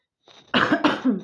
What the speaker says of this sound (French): Décidément, je tousse, excusez-moi